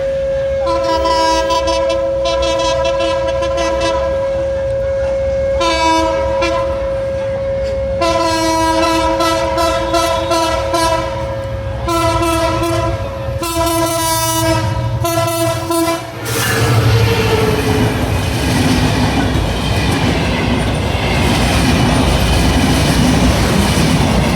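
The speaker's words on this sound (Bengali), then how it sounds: "অল্প সময়ে জুরাইন রেলগেট থ্রু পাস করে যাবে বেনাপোল অভিমুখী বেনাপোল এক্সপ্রেস" The Benapole Express passenger train passes the Jurain rail gate, sounding loud repeated horn blasts in short and long bursts. A heavy rolling rumble and clatter of passing carriages follows up close.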